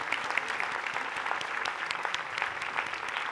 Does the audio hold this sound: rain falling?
no